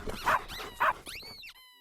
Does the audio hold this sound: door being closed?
no